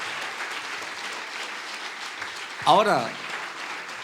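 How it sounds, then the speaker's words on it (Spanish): Clapping from a church congregation runs steadily under a preacher's sermon; partway through a voice cuts in loudly with a short word before the applause carries on at a moderate level. "Dele ese aplauso fuerte al Señor."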